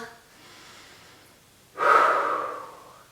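A breath drawn during a gentle, low-impact exercise session for older adults: a soft inhale followed by a louder, longer exhale close to the mic.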